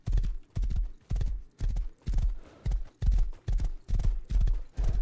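A horse in the survival game Rust clops along in a steady, even rhythm of about ten heavy hoof strikes, close and distinct, with no talking over them.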